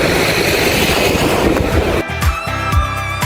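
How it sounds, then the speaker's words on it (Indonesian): Ambience at the MRT Bundaran HI metro station in Jakarta: a loud rumbling, rattling train moves through the station with rhythmic clatter, then quieter platform noise with scattered thuds and a faint tone. "Jadi sekarang kita udah sampai di stasiun MRT Bundaran HI."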